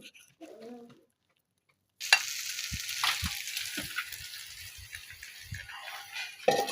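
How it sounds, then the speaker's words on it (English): A stew starts to fry in a pan with a bright continuous sizzle that opens abruptly and carries on under intermittent stirring knocks and clatter, close and moderately loud. "Ready to fry our stew."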